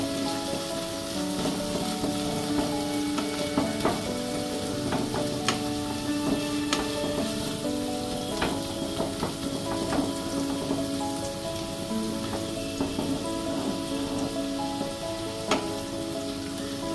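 Food for alu dom fries in a pan, a dense, continuous sizzle with crackling pops and occasional spoon scrapes and clinks as it is stirred, close and loud with no talking.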